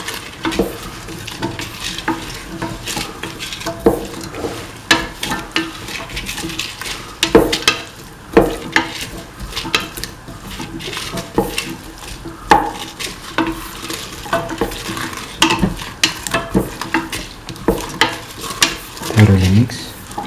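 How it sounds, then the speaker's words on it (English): Tomato pieces being stirred into a rice mixture frying in a pan for snake gourd coconut milk rice, a steady scraping and stirring over a soft continuous sizzle with occasional utensil knocks against the pan. "Mix the tomato pieces nicely thoroughly with the rest of the mixture."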